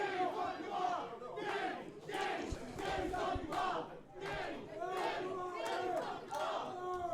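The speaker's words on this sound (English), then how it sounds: "This animalistic crowd is still behind Seth the Slaughter." Wrestling crowd at an indie show yelling and chanting in loud, rhythmic waves of shouting that swell and dip several times, filling the arena.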